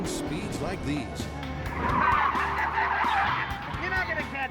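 A spy chase car speeds along city streets with its tires squealing in a drawn-out skid and the engine revving, loud and close, while someone narrates over it.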